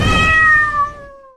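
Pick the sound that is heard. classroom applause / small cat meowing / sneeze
small cat meowing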